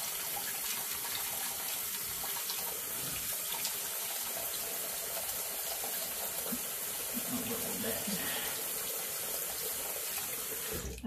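A tap runs hard into a sink while fountain pens are washed out, a loud continuous splashing gush that stays steady throughout with small shifts as hands move through the stream.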